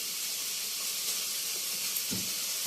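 A second batch of fries cooking in a small frying pan alongside liver, giving a steady close sizzling hiss throughout, broken by a couple of brief clinks near the end, with no talking.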